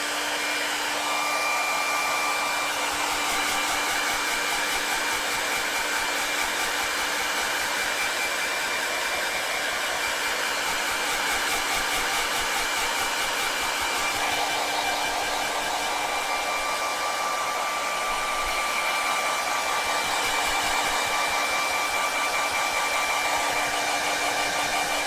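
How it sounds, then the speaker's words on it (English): A hair dryer blows continuously at close range, a steady loud whooshing hum with a high whine, running alone without pause. "I'm going to actually use the hairdryer to make sure this is all the way dry"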